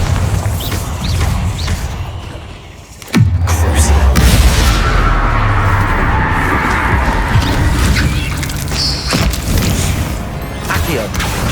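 A Bombarda explosion spell goes off in the Hogwarts Legacy video game: one loud, deep boom strikes near the three-second mark, then a dense, sustained rumble of game effects carries on to the end.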